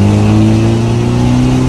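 An Isuzu D-Max pickup with a remapped engine revved hard, its loud, steady engine drone holding a high pitch close by throughout, with no talking.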